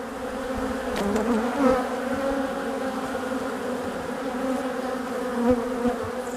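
Buzzing of a honeybee, one with deformed wings, near a hive's frames holding pollen, a steady close drone with slight swells and no talk.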